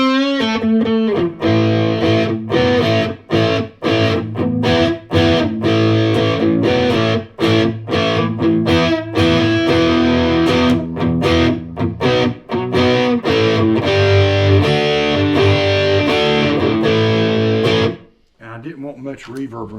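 Crunchy distorted electric guitar riffing through a Marshall amp preset on a Fender Mustang GTX100, played loud and rhythmic with choppy chords and brief gaps for nearly twenty seconds before cutting off abruptly.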